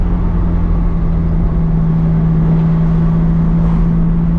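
Nissan Skyline R32 GTR engine fitted with an equal length front pipe, a steady loud droning idle with a strong low hum, heard close and unchanging throughout.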